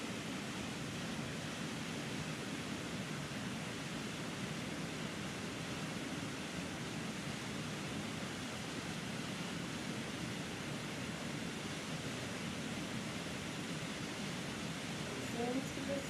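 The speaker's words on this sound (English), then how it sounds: "Listen to the sounds of the waterfall" A waterfall in the Catskills pours in a steady, unbroken rush of water that stays even and full from start to finish, with no clear breaks.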